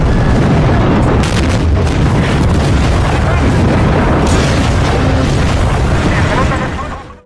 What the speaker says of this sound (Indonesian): artileri Uni Soviet mulai menyerang tentara Jerman